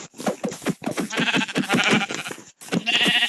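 A Minecraft sheep bleats repeatedly in quick, wavering bursts as it is attacked, loud and close, with a brief gap before one more long bleat.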